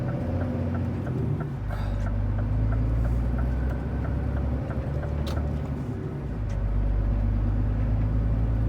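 Heavy truck engine hauling a loaded trailer over a wet floor, a steady low rumble and drone that holds close and loud throughout, dipping briefly midway before building again.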